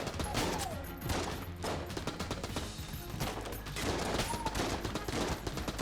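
Video-game Tommy gun firing in rapid automatic bursts, dense crackling volleys that stop and restart several times, loud and close, with game effects sounding between bursts.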